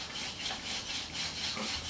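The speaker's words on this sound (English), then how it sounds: "as I'm spinning now, I can hear the spindles starting to grip on the hearth" Wooden hand drill spindle spun between the palms against a wooden hearth board for a friction fire, giving a steady, close, scratchy rubbing hiss that swells and fades with each stroke, no voices.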